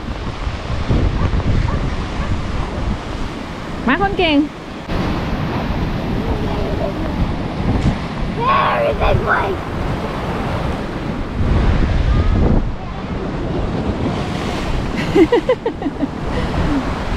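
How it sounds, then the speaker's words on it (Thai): Strong wind buffets the microphone beside crashing sea waves on the coast at Amble, England, a loud continuous roar with brief voices speaking in between. "ลมแรงมากเลยขึ้น"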